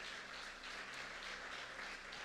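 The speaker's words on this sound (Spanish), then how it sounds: "Dele un aplauso fuerte a Dios." Applause from a church congregation during a Sunday family-day service, a steady dense wash of clapping throughout, fairly faint and distant-sounding, no voices over it.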